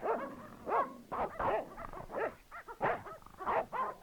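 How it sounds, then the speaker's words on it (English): Dogs bark repeatedly in the Broken Sword point-and-click adventure game, a run of sharp, loud barks and yelps in quick uneven bursts, close by and without talk. "Oh, shit. Dogs."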